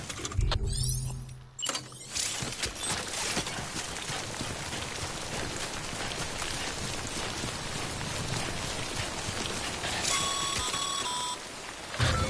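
Steady timefall rain hisses and patters in a video game, continuous and fairly loud, with electronic beeps and a mechanical rattle at the start and near the end.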